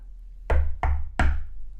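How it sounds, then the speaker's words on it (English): Three firm knocks on a door in quick succession, each a deep, resonant thud with a short decay, close and loud with nothing else heard. "another knock at the door."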